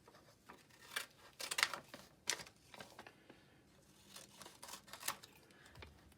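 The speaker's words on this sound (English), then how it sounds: "Then I'm going to use my scissors." Scissors snip through paper while a circle is cut out for a homemade magnet, giving a run of quiet, crisp cuts that arrive in irregular bursts with pauses between.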